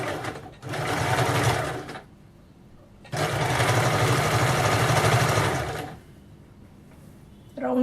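A sewing machine stitches piping onto a round back neck in two long, steady runs of close, loud motor whir, with a quiet pause between them and a short burst starting again at the end.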